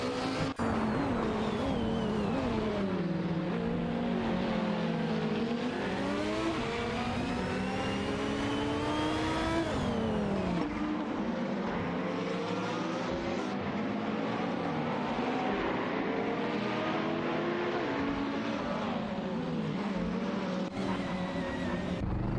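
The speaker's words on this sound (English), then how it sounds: "ATC, JT3, Electric Miri in the same car, and Kamikaze 38 in the Lamborghini Huracan GT3 are fiercely competing for the 14th position." Several GT3 race cars, among them a Lamborghini Huracan GT3, race in a video game. Engines roar and rev continuously, with shifting pitch as cars pass and change gear. The sound is loud and dense throughout, with no talk.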